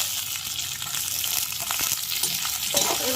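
Capsicum and onion are added to hot oil in a wok and fry with a loud, continuous sizzle, broken by scraping stirs and clattering spatula strokes near the end.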